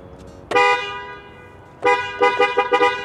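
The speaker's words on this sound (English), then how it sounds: "Honk the horn." Horn of a Lamborghini sounding in loud blasts: one long honk, then a cluster of several short quick toots close by, with quiet ambience in between.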